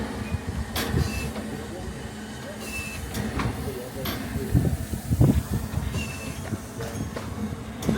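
A Talyllyn Railway steam train, double-headed by two locomotives on a Welsh narrow-gauge line, hisses and clanks with bursts of steam and rolling wagon noise while people talk nearby.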